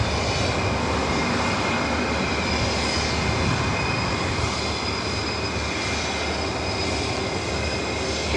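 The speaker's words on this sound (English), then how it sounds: "Again, this flight heading to SFO at this 26-year-old A320," Engine roar from a 26-year-old Airbus A320 jet, flight 2019 bound for SFO, at LAX: a steady, loud broadband rumble with a faint whine on top, holding level for the whole stretch with no talk over it.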